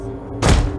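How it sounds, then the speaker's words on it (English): An onager siege engine firing in the game Total War: Attila, a single heavy thud that lands abruptly over a continuous low rumble of battle ambience. "Is this onager firing or not? It says it's firing."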